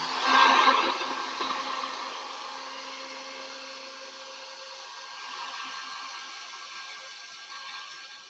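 A hair dryer blows a steady, airy whoosh over painted laser-cut Halloween decor tags, loudest at the start and then holding at a softer, even level, close by with no talking.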